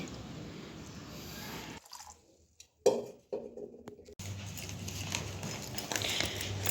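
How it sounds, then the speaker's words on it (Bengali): Water pours steadily into a water filter, pauses amid a few clinks and drips, then a fuller stream of water runs again, close by with no talking. "আর এবার ফিল্টারে পানিটা দেব"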